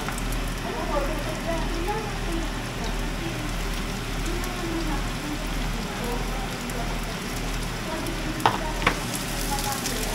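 Food frying in a pan inside a condo kitchen, giving a steady, even sizzle like light rain throughout, with a low hum underneath and two brief knocks near the end.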